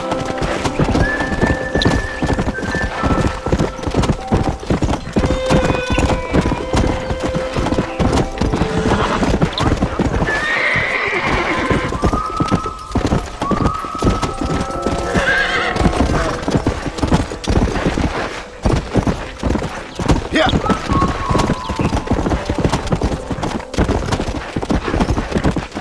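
A horse gallops with continuous rapid hoofbeats and neighs now and then in the video game Red Dead Redemption, loud and close, with speech and game sounds mixed in.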